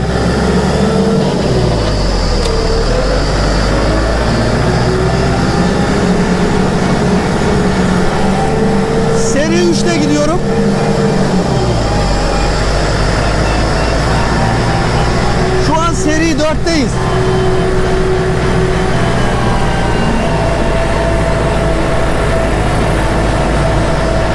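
A loud Kubota tractor engine drones steadily, with pitch rising as it revs and accelerates a couple of times, heard from inside the tractor amid rumbling noise.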